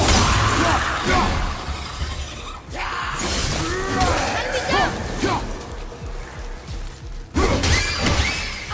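Objects smash and shatter in God of War, with repeated crunching breaks, clinks and thuds during combat, loud and close, accompanied by game music and voices talking throughout.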